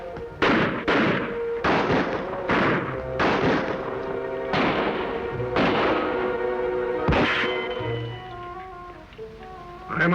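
Gunshots in a western TV show, about seven or eight sharp reports fired in an uneven sequence, loud and close, with faint echoing tails and no talk.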